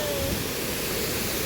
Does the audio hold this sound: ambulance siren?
no